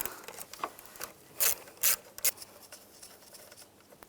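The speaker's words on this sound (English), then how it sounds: "Use an 8mm socket. Disconnect this nut." An 8mm socket wrench loosens a nut during fog light wiring work on a 2010-2017 Chevrolet Equinox, giving quick, close ratcheting clicks in short bursts with light rubbing between, quiet and without speech.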